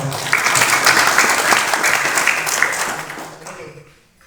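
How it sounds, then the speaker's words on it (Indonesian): Audience applause for a young female martial arts athlete at a belt-grading event, steady and fairly loud clapping from a crowd that fades out near the end. "Tepuk tangan buat Mbak Tika."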